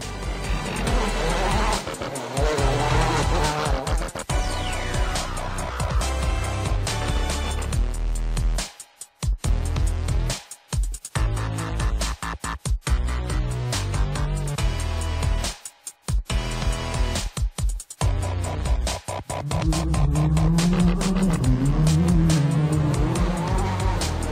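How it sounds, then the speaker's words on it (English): Rally cars on a street stage through Lisbon during Rally Portugal, loud engines revving and roaring past with tyre squeal and skids, continuous and close with brief gaps, no speech. "the drivers headed for the capital for a quick spin through the streets of Lisbon"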